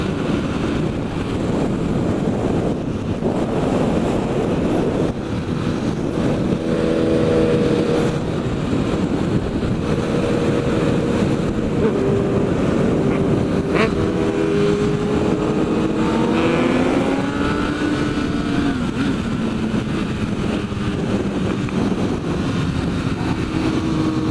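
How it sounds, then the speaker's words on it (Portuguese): A motorcycle engine roars at a car meet, steady and fairly loud throughout with wind buffeting and some passing vehicle noise, rising revs audible partway through. "A moto do Panda berra bonito, rapaz."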